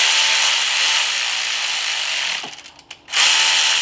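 An electric ratchet works timing chain bolts on a Dodge Durango 3.6, a loud, steady whirring that breaks into a few short clicking bursts before running on again.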